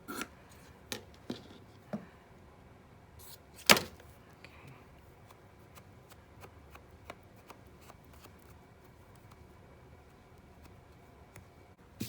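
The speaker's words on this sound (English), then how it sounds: "I'll just cut it and see if I can shred it a little bit" Scissors cut and shred paper ephemera pieces, giving a few quiet, scattered snips and crisp paper rustles, with one sharper cut standing out amid near silence.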